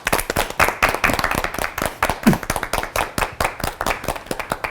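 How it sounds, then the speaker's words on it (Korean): A church audience claps for a pastor about to preach, a rhythmic run of sharp, close hand claps in a steady beat, loud and unbroken by speech. "한장수 목사님의 설교 박수로 청해 듣겠습니다"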